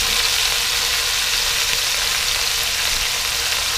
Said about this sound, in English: we're going to saute this, brown it some before we put it in there to cook